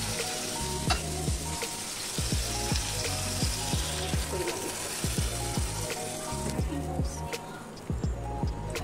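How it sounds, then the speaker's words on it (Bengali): Water added to pointed gourd frying on low heat in a pan, a soft sizzle and watery bubbling with repeated clinks and scrapes of a utensil, quiet and close. "এখন আমি পানি দিয়ে দিব।"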